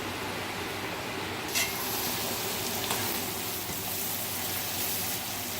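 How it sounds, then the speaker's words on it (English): Corn sizzles in a hot pan, a steady hiss of frying that stays even and close with no voices. "So the corn will come to a sizzle"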